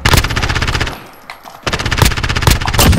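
MP7 submachine gun fire in a first-person shooter video game, loud close rapid bursts of automatic shots, a brief pause, then more sustained bursts.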